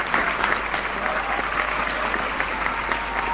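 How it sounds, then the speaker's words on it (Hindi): Enthusiastic audience applause at a Hindi-language stage show, a steady sustained wash of many hands clapping for a few seconds without pause. "दिल खोल करके जोरदार तालियां बजा"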